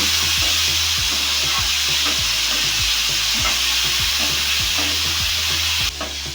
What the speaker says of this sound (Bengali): লবণ দিয়ে আলুটাকে চারিদিকে নাড়াচাড়া করে নিচ্ছি